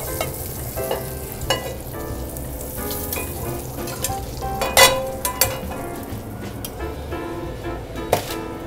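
Garlic frying in oil and butter in a pot for a French sea bream and shrimp boudin, a steady close sizzle with scattered louder pops and crackles, no talking.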